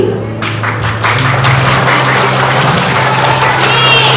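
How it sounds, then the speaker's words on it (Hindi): Nursery and kindergarten children applaud at a school puppet show, a continuous loud patter of clapping over a low steady hum. "तो बजाओ ताली"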